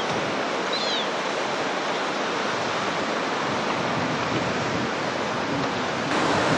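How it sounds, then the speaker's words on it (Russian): Continuous roar of heavy storm surf on the Black Sea at Anapa, steady and loud broadband rush of waves crashing, with wind mixed in and no voices. "На море сегодня шторм."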